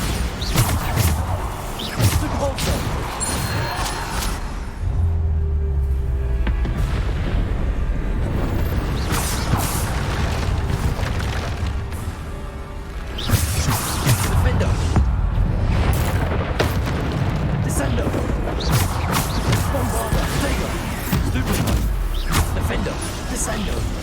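Bombarda, Depulso and Descendo spells are cast again and again in the Hogwarts Legacy video game. Booms, whooshes and crashes keep sounding over steady music, while a voice talks over them throughout.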